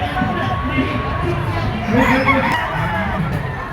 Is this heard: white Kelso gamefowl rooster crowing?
yes